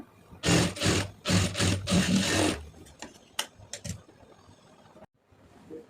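A sewing machine stitching a blouse, several quick bursts of rapid mechanical rattling up close, then lighter scattered clicks and a short pause.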